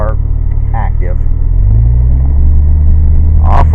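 A car fitted with a Farrar transmission idles in first gear, then its engine note deepens and swells into a steady low drone as it begins pulling away, with brief voices breaking in over the rumble.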